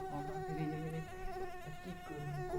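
A mosquito whines steadily and close inside a mosquito net, a thin continuous buzz wavering in pitch with no talking.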